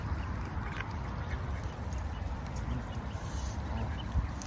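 Ducks quack softly amid a busy background of other waterfowl, with a small duckling among them, a low, continuous chatter of calls at moderate distance and no clear talking.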